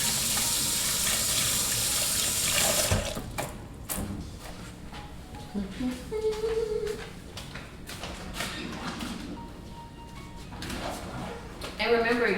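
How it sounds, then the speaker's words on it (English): Tap water runs over raw chicken in a home kitchen sink, a steady near splashing hiss with clatters and shifting bursts as the meat is handled, lasting over twelve seconds. "What I'm doing right now is just running some water on the chicken"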